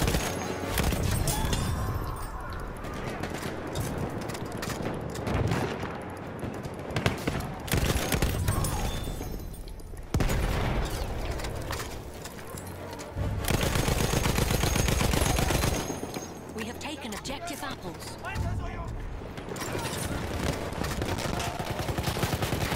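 Dense sniper and machine gun fire from the World War I shooter Battlefield 1, with rapid bursts and sharp single shots layered continuously and loudly, broken by a few brief dips and sudden cuts.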